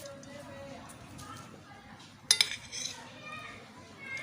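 A metal spoon clinks a few times against a dish while spice masala is stuffed into tinda, a round gourd; brief sharp taps stand out over soft kitchen background and a voice talking.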